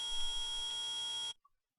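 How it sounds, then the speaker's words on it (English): Metal detector in an Ace Attorney video game gives a loud, steady electronic tone that holds for over a second and cuts off abruptly, followed by a tiny blip and silence. "Nick, it's beeping! The metal detector's found something!"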